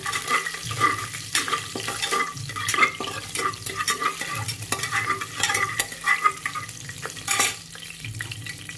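Spices including cardamom fry in oil in a cooker for paneer dum biryani, a steady close sizzle with frequent scraping stirs and light clinks of a utensil against the pot, with no voices.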